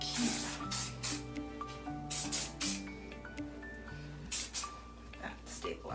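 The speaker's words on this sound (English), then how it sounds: "Now a bit of texturizing spray to keep" Several short hissing bursts of an aerosol texturizing hair spray puff out in quick succession, close by, alongside a soft tonal background.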